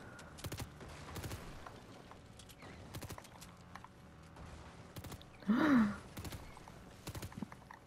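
Gunfire from other players in a video game crackles as scattered, distant shots at uneven intervals over quiet ambience. A short, louder pitched cry cuts in briefly partway through.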